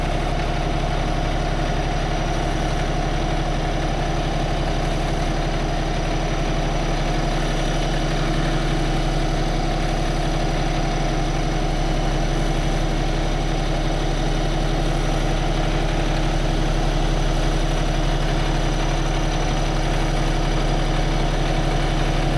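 A dump truck's engine idles steadily during a muddy recovery, a loud, constant low rumble with droning tones that holds unchanged throughout, close by and with no talking.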